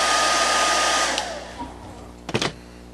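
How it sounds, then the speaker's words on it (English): A hair dryer blows a steady, loud whooshing stream onto glue, which is being warmed until tacky, then shuts off and fades, followed by a few faint handling bumps. "I'm going to take my hair dryer and I'm blowing right back in here to get that glue tacky"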